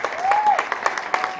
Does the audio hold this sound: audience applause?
yes